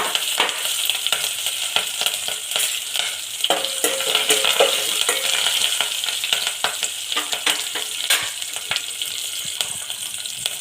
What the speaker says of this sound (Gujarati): जीरू नाखशुं, मीठा લીમડાના પાન નાખીશું, મરચાં નાખીશું,